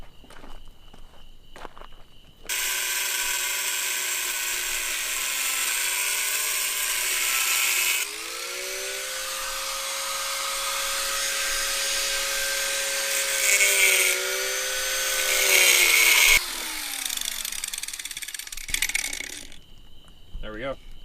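Power tool cutting steel pieces to six-inch lengths for a drift car, a sustained loud grinding whine after a quiet start, pitch sagging and rising under load, ending with the tool spinning down.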